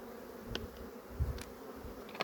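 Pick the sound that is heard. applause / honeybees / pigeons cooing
honeybees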